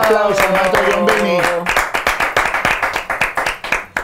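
An audience applauds to welcome a music maestro, with loud hand claps in a quick, uneven rhythm that follows a musical tone and thins toward the end.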